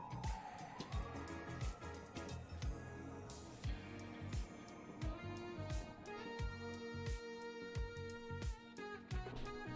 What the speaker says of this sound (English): Pause for sirens.